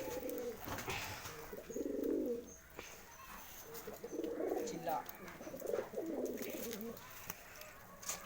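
Pigeons coo in repeated low rolling bursts at close range, with someone talking intermittently over and between the calls.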